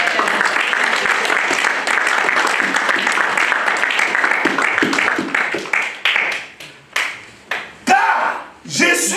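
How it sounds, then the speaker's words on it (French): A church congregation bursts into loud, dense applause and cheering for the Lord, with voices mixed in; the clapping then thins out into scattered, separate claps before stopping. "Est-ce qu'on peut acclamer le Seigneur?"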